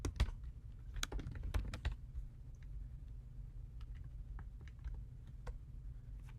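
Computer keyboard typing while editing a configuration file in a terminal on a Mac: a quick, irregular flurry of close key clicks at first, then sparser, lighter taps over a low steady hum.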